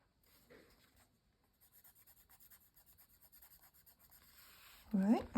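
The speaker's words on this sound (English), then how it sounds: "So these are Prismacolor pencils." Prismacolor colored pencils scratch softly on paper, first a few isolated marks, then a run of quick rhythmic dabs like dots, before a voice briefly speaks at the end.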